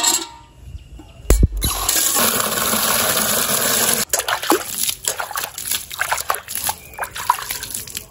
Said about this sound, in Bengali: জল দিয়ে ধুয়ে দিতে হয়